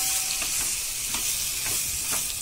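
Chili powder and turmeric powder being stirred into hot oil in a pan for a lunch dish, heard as a steady sizzle with repeated scraping strokes of a spoon at a roughly even pace, close up and with no talking.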